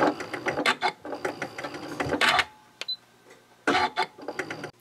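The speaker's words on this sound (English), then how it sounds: "I'll stitch over those original stitches" A sewing machine stitches over earlier seams on a fabric origami triangle pouch, then backstitches, giving bursts of fast mechanical whirring separated by short pauses, close and clear with no talking.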